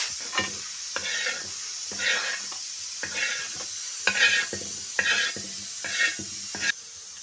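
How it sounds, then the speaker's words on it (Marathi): A spice masala is sautéed and stirred in a pan for a spicy saar, with a steady close sizzle broken by about eight rhythmic scraping stir strokes, roughly one per second, and no voices. "आजी आता व्यवस्थित परतून घेत आहे सारासाठी"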